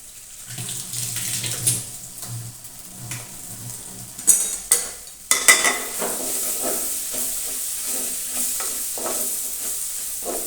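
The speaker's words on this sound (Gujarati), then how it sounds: "આ ગોળ ઓગળી જાય ત્યાં સુધી આપણે તેને હલાવતા રહીશું" Bitter gourd curry with jaggery is stirred in a pan, with spoon scrapes and metallic clinks against the pot over a low sizzle and a few sharp knocks midway.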